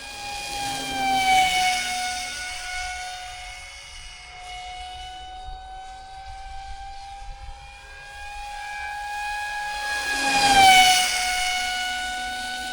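Steady high-pitched whine of a 2212 brushless motor with propeller on an RC F-22 model jet at full throttle, loud and close, with the pitch dipping and rising as it strains.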